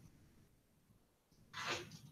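A single short sneeze bursts out after a quiet stretch of faint room noise.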